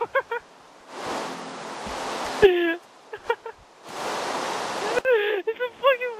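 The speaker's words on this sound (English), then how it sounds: "It's a fucking waterfall." A Minecraft waterfall rushes as a broad steady hiss in two long bursts, cut off between them, with someone talking in short gaps around the water noise.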